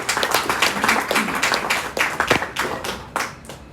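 An audience at a Hindi-language event claps for NABARD in a burst of sharp, close handclaps that thins out toward the end, with no talk over it.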